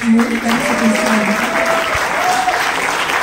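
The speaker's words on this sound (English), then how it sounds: "Please just keep clapping so that he gets a cue." An audience claps steadily and loudly at the Bandaa movie trailer launch as Manoj Bajpayee arrives. The applause is continuous throughout, with a faint voice or tone underneath.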